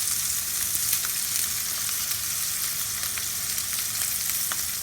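A steak sears over high heat in a cast iron skillet with an even, dense, loud sizzle and faint spitting pops throughout, and no talking.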